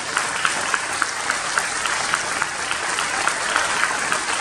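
An audience at a press conference on drinking water applauds municipal employees with steady, dense clapping throughout, moderately loud and continuous with no voices over it.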